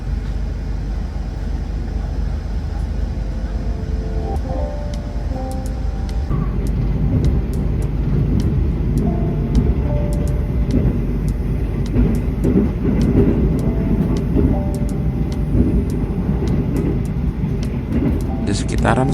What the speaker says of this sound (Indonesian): KA Lodaya ini dipacu dengan kecepatan cukup kencang ya teman-teman.